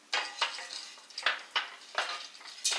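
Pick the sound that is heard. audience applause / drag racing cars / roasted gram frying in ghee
roasted gram frying in ghee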